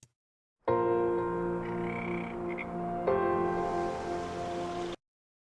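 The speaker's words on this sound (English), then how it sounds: "Listen for the frogs here." Frogs croak in a steady, layered chorus in the Farming Simulator game map Silverrun Forest, with a low droning hum beneath, fairly close and continuous, with no voices.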